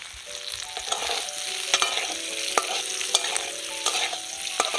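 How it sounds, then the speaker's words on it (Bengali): Potatoes fry in a pan with a steady, close sizzle, punctuated by regular scraping clicks from stirring, and no voices. "এবার আমি আলুগুলো আগে একটু ভেজে নেব"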